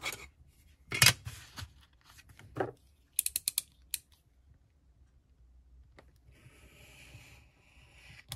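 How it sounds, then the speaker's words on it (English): Scissors snipping paper flaps for a junk journal page, a few quiet irregular cuts and rustles with pauses between, followed by a faint soft scraping, close by and alone. "On the larger flap, we are going to cut up, and on the smaller flap, we're going to cut straight."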